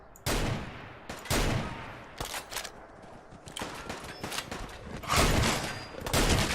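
Gunfire in Fallout 4: loud bursts of shots and rapid fusillades fire in repeated volleys across the whole stretch, sharp and close.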